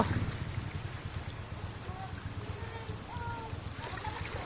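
Strong current of floodwater surging after non-stop rain, a steady rushing roar under the scene, with people talking nearby over the flow.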